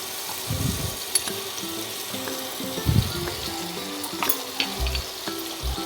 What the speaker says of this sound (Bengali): সব কটা মশলাকে আমি হালকা করে একটু ভেজে নেব